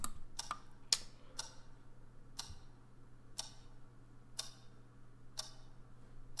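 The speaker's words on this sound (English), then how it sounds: "The clock is a little unsettling." A clock in the video game Scratches ticks in a slow, regular rhythm of sharp clicks about a second apart, quiet and close in an otherwise still room with a low steady hum underneath.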